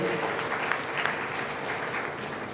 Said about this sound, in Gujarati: તાળીઓના ગડગડાટથી